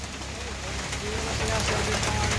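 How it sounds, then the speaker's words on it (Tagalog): Rain falls outdoors on a street beside a small roadside shop in the Philippines, a steady broadband hiss of drops hitting surfaces that grows slightly louder, with faint background activity and no clear talk. "Basang-basa rin tayo sa ulan."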